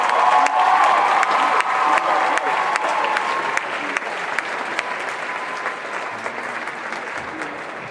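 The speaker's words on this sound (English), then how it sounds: "we're going to all give them a huge round of applause" A large audience applauds as eliminated contestants come up on stage at a school pageant-style event, dense sustained clapping with some cheering that gradually thins slightly toward the end.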